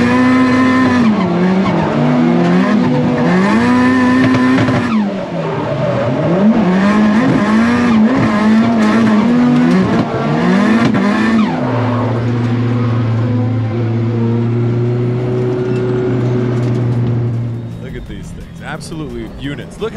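Drift cars race at a drifting event, with engines revving hard and rising and falling while tires squeal in long, loud stretches. The roar eases into a steadier drone before fading near the end.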